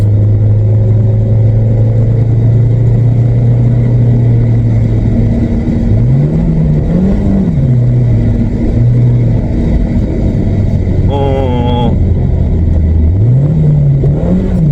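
A VW Vento car engine with a recently repaired gearbox revs in steady, loud mid-pitched sweeps that rise and fall several times, with a brief whine of higher tones near the end, a constant rumble underneath.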